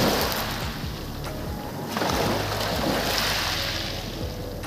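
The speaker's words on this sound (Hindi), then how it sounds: "देखिए इन समुंदर की लहरों का नज़ारा।" Sea waves washing ashore on the Daman coast, a steady broadband surf roar with gentle swells and a low rumble of wind, continuous and fairly close with no voices.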